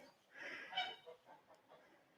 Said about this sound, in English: My geese and my ducks have come up to visit us.